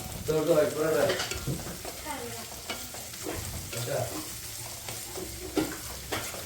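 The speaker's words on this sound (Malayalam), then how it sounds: "ഇത് നമുക്ക് നല്ലോണം ഒന്ന് ഇളക്കി കൊടുക്കാം" Curry being stirred in a pan over a low flame at home, a steady soft scraping and gentle sizzle running under muffled voices throughout.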